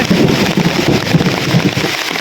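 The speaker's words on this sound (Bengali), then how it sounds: "এরকম স্পিডে বৃষ্টি হইতেছে" Heavy rain pours in a fast, dense downpour, a loud, constant hiss and patter of drops on surfaces close by, with no voices.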